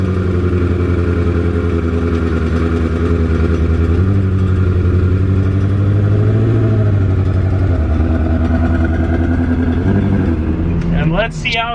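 A Ferrari 360 engine being warmed up and revved on a drive, a loud close throaty drone that climbs and falls in pitch through several revs, with voices briefly audible near the end.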